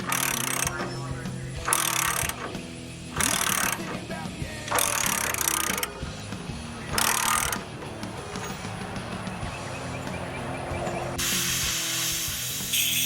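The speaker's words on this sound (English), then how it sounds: "So Matt got one of the nuts turning." Wrench work loosens a nut on the frame of a 1920s Rome grader, making a series of loud ratcheting bursts separated by pauses, with scraping metal and faint background noise between them.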